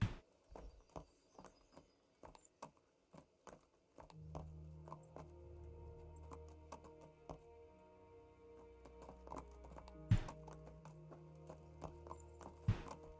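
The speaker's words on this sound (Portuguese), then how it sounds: "Esse é meu cavalo." Horse hooves clip-clop in the video game Kingdom Come: Deliverance, a steady string of sharp hoof strikes at walking pace, joined midway by a low droning game sound.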